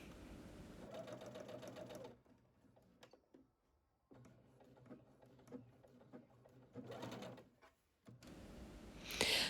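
Sewing machine stitching quilt block seams for an Ohio Star baby quilt, a close, rapid mechanical whirring in several bursts with brief pauses between runs.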